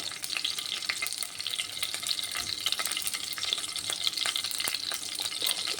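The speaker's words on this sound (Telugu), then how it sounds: "ఇలాచి, లవంగ, చెక్క, ఉల్లిపాయలు ఇవన్నీ ఫ్రై అవ్వాలి." Whole spices, green chilli and onions fry in oil in a pan for chicken curry, giving a steady, close crackling sizzle with scattered sharp pops throughout and no talking.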